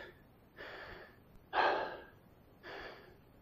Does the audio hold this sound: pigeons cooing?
no